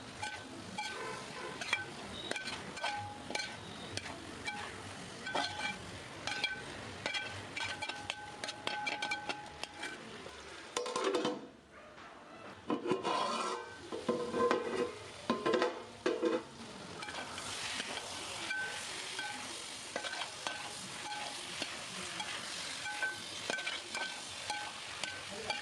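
Fried chicken stirred into a sizzling masala for a chicken, paneer and mutter curry, with steady frying crackle and scraping stirring throughout, briefly dropping quieter midway before the loud sizzle resumes, no talking.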